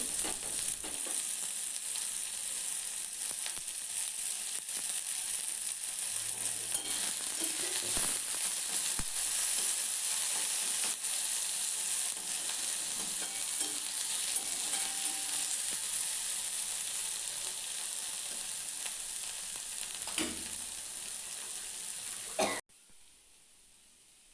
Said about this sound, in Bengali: পেঁয়াজটা একটু লাল লাল করে ভেজে নিচ্ছি